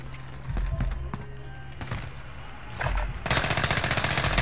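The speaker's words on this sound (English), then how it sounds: "I just heard the shooting, but I couldn't see him." Gunfire in the Call of Duty: Modern Warfare video game: scattered single shots and short bursts, then a rapid sustained automatic burst at the end, fairly quiet overall.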